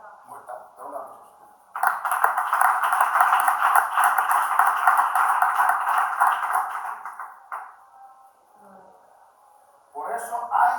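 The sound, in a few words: congregation applause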